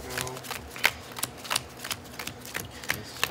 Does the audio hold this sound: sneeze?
no